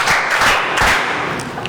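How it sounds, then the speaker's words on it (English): A classroom audience applauds a student, a dense burst of clapping held steady at moderate loudness for under two seconds. "Clap for her."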